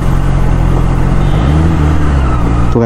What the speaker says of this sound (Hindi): यहाँ का ट्रैफिक जो है बहुत हार्ड है